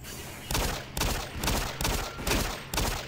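Gunfire in Doom 3, a rapid run of about six loud, close, evenly spaced blasts with short gaps between them and no talk over them.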